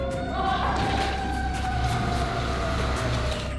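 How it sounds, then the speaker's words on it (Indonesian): A fire engine siren wails steadily through the clip, a continuous rising and falling tone over a constant low rumble, moderately loud and with no talk over it. "Saya rasa saya mendengar pemadam kebakaran."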